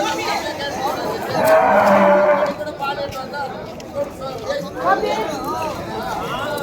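Native cattle moo at a busy livestock market in Vaniyambadi, one loud nearby low call rising out of the chatter of traders, with people talking continuously around the animals.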